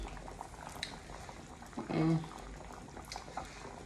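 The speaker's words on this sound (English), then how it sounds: "my stew peas is bubbling" Jamaican stew peas simmering in a pot, a quiet continuous bubbling with soft pops and one louder burst of bubbles near the middle, heard close with faint room noise.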